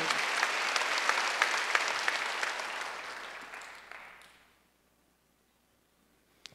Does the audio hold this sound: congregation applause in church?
yes